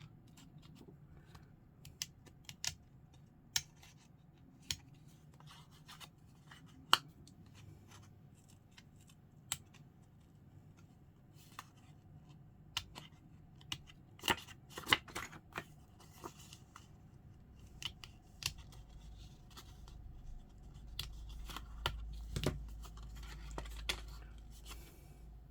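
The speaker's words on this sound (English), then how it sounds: "That just gives me enough room just to get those tiny scissors in." Tiny scissors cutting paper for a journal craft project, a series of faint sharp snips scattered irregularly over quiet room tone, with light rustling of paper and a low thump near the end.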